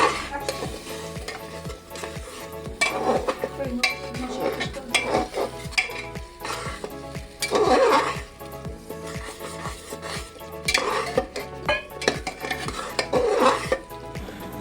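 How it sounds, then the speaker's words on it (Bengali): A spice masala fries in a pan with chicken and cauliflower waiting to go in, as a spatula stirs and scrapes the metal in repeated strokes over a steady sizzle, close and moderately loud. "মশলাটাও এর মধ্যে দিয়ে হালকা এটা ফ্রাই করে নিতে হবে"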